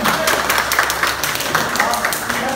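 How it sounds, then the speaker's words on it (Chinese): Crowd at a Father's Day banquet on Dongju, Matsu, claps for itself in a hall dinner put on by the township office. Continuous, fairly loud clapping fills the moment, and someone speaks through it. "也给自己最大的掌声庆祝一下"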